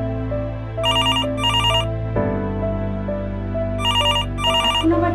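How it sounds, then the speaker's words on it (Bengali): A telephone rings in two bursts of double rings, loud and close, over steady background music. "এখন আবার কে ফোন করলো?"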